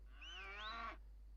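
A cow moos in the 2001 game Black & White, one drawn-out call with a rising and falling pitch lasting about three-quarters of a second, close and clear with no other sound around it.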